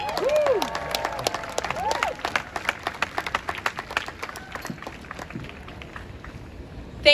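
An outdoor crowd at a New York City rally against anti-Asian hate claps for Congresswoman Grace Meng, scattered then steady clapping that tapers off, with a whistle-like tone and voices at the start.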